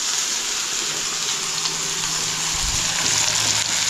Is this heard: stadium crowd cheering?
no